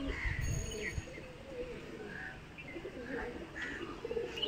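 Pigeons let out into the sky give soft, low coos and faint chirps over a steady hum of outdoor noise, with a few muffled bumps near the start.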